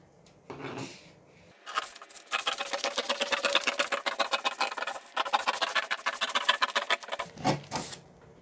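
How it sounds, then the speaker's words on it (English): Scissors snip through a drafted back overlap top pattern, starting at the back armhole, in a fast run of crisp, evenly spaced cuts heard close up with a brief pause midway. "I'm going to start cutting now."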